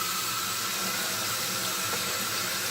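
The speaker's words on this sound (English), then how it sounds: "get started by dampening your brush with warm water" Warm water pours steadily from a tap into a sink to dampen a makeup brush, a close, continuous hiss and splash with no pauses.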